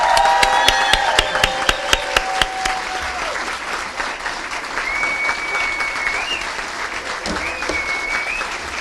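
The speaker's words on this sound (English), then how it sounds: "Let's give a big round of applause to everybody from the class of 2018." Sustained applause from a large crowd at a commencement ceremony fills the room, steady and loud, with a few sharp claps standing out early on.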